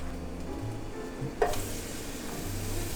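Vegan French toast batter sizzles softly in a non-stick pan, a faint steady frying hiss with a brief stir or scrape midway.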